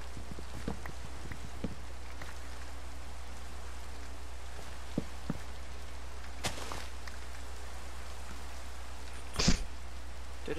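Steady Minecraft rain hiss fills the background, with scattered louder drops and taps landing on surfaces.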